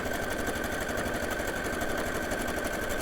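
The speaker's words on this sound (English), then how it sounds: "this is sewing my buttonhole" A domestic sewing machine stitches a buttonhole with a continuous, rapid, even stitching rhythm, close and steady throughout, with no talking.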